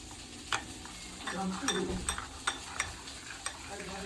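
Eggplant sautés in a pan with a steady, soft sizzle, while a spoon scrapes and taps against the pan in a regular rhythm of light stirring strokes close by.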